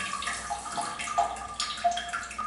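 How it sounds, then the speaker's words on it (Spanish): A shower with its rain head runs steadily in an apartment bathroom, a continuous hissing spray of water with faint splashing, close and even throughout. "Ducha con su respectiva lluvia"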